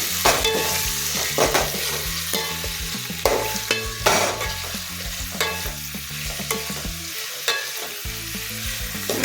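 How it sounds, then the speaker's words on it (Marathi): Masala and onion for chicken biryani fry in a pan, a steady close sizzle broken by repeated scraping and stirring strokes, with no voices. "तें मसाला मातशें तळशिला आनी कांदो घायला"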